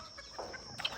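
Chickens cluck softly at night in a Ghanaian farm ark shared with guinea fowl, geese and turkeys, a few quiet, scattered calls close by.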